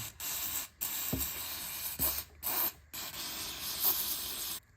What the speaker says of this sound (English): spray down with brake cleaner.